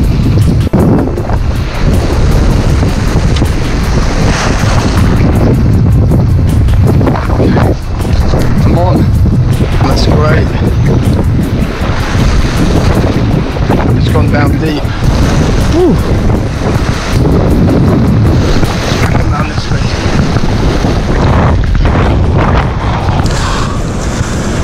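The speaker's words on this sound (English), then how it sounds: "It's not the ideal conditions, 30 knot winds I reckon" Strong 30-knot wind gusts buffet the microphone on a sea shore while bass fishing, a loud, constant roaring rumble with surf washing underneath and no clear break.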